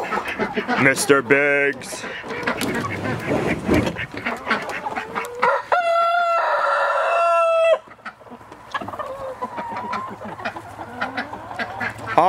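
Ducks and chickens come rushing out of their enclosure, loud quacking and clucking with a rooster crowing, close by, while people talk over the birds.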